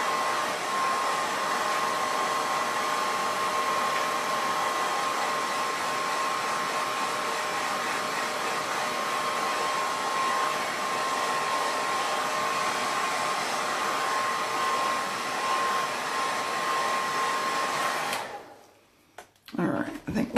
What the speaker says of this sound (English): whenever you use a heat tool or a blow dryer or anything